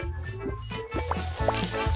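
Potatoes fry in oil in a pan, a close, steady sizzle and continuous crackle with occasional louder pops.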